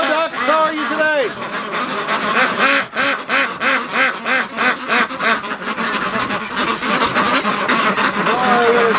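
Ducks in a pen quack loudly in a dense, continuous chorus close by, with rhythmic bursts of overlapping calls throughout.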